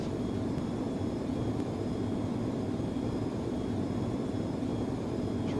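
Steady jet engine drone from an Iris F-22 Raptor in the FSX flight simulator, throttled back. The roar is continuous and even, with no talk over it.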